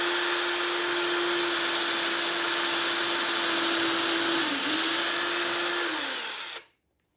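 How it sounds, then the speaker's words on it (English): A power drill bores holes through a cabinet toe kick into a floor cleat over vinyl plank flooring, whining steadily and loudly for several seconds with one brief dip before it cuts off abruptly. "drill holes through the toe kick"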